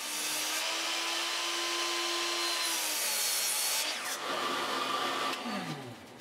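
A miter saw cuts bunched wood pieces to length, a loud close whine and rasp of the blade biting through the wood, then spinning down and cutting again, with no voices.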